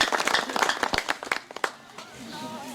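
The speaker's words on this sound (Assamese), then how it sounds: "আপোনালোক সকলোৱে এটা ডাঙৰকৈ হাত তালি দিব লাগে" An audience at an Assamese Kalita community conference claps for the moderator, with scattered hand claps over about two seconds that thin out toward the end, while a voice briefly carries over the fading applause.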